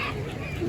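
A bird at a bridge gives a brief clucking call, close and moderately loud, lasting under a second.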